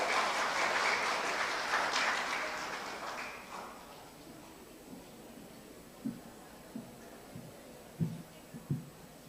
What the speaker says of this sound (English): Please give applause for Ms. Happy Febrina, everyone.